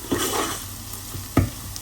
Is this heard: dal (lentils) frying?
yes